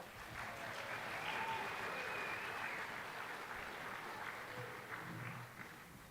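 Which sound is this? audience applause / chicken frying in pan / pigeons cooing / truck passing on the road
audience applause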